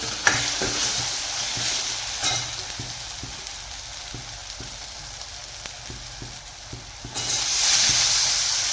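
Cumin seeds, onion, chili powder, salt and turmeric fry in hot oil for a ridge gourd dish. A steady close sizzle carries light stirring taps and swells louder near the end.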